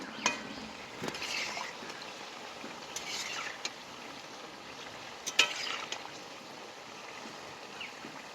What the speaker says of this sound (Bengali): তেল বেশি দিলে এইভাবে ভেসেও উঠবে, তাড়াতাড়ি ভাজা হয়ে যাবে।